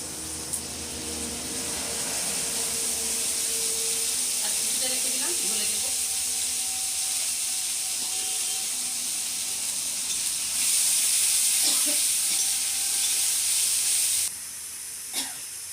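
A spice paste of ginger, garlic, tomato and green and dried chilli frying in a pan gives a steady, close hiss and sizzle that runs throughout, growing brighter near the end, with faint clinks and no talk.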